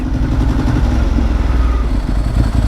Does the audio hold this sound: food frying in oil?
no